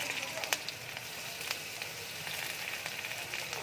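Potatoes sizzling as they fry in hot oil with cumin and dried chillies, a steady close-up crackle and hiss broken by a few sharper pops.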